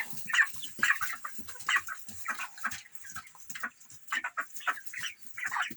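Young 36-day-old broiler chicks cheep and peep in quick, high bursts, several birds calling over one another at close range.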